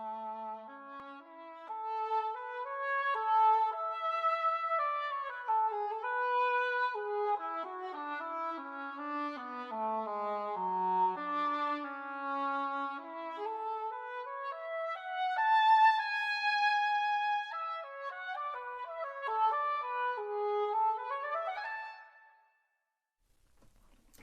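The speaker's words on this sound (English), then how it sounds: "So here's what the English horn sounds like" Solo English horn from the Berlin Woodwinds expansion sample library, playing a flowing legato melody that rises and falls in a reverberant space, moderately soft and alone before fading out.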